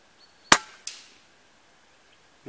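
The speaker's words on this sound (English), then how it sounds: "3 shots at the spinner from the 55 yard mark" A tuned BSA Ultra SE .177 PCP air rifle fires at a metal spinner target 55 yards away, giving one sharp crack followed shortly by a fainter second report and a faint distant ring, with quiet afterward.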